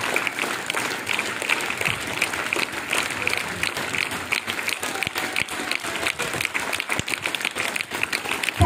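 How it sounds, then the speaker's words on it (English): Crowd applause in a Maharashtra gathering, many hands clapping unevenly with sharp individual claps standing out, moderately loud and continuous, with some voices underneath. "Give a round of applause, Maharashtra."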